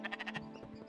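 Sheep bleating in the video game Spiritfarer, a short, faint, wavering bleat pulsing quickly at first and then trailing off.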